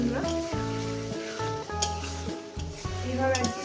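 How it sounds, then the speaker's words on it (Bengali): Katla fish masala is sautéed and stirred in a pan: a soft continuous sizzle with stirring scrapes, fairly quiet and sitting under a prominent tonal, melodic background. "এটা তিন চার মিনিট কষিয়ে নেব"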